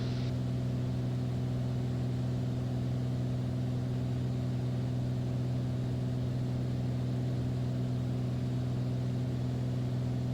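A light aircraft engine runs at reduced power during a short flight on an ILS approach, a steady, loud, close drone with even tonal hum and no speech.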